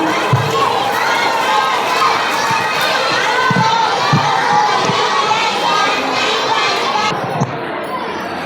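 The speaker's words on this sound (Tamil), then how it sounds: "சத்தமா ஒரு கிளாப் பண்ணுங்க." A crowd of children shouting and cheering at a church vacation Bible school puppet show, with scattered claps and thumps in a lively, echoing room, continuous throughout.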